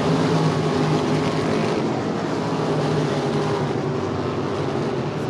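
Non-winged UMSS sprint cars race around Cedar Lake Speedway in 2015, their engines blending into a loud, sustained roar that rises slightly at the start and then holds steady as the pack passes.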